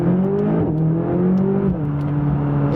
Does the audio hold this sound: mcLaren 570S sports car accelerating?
yes